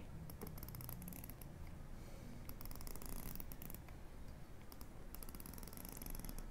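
Faint bursts of rapid, crisp clicking from the rotating bezel of a Fugu Limited watch, repeating in short clusters over a low background hiss.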